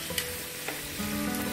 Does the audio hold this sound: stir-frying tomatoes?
yes